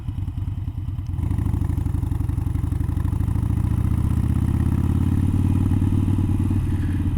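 A Harley-Davidson Iron 883 Sportster riding uphill, its V-twin engine loud and close with a lumpy low throb that steadies and pulls harder as it climbs.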